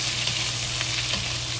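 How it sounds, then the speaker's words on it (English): Ginger and green onion fry in a pot with a steady, close sizzle that continues without a break and has no talking over it. "Slowly fry until the ginger and the green onion release good smell."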